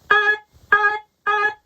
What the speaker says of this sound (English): I chopped the sound and put it into my sampler